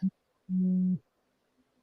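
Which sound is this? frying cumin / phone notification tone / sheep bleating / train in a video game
phone notification tone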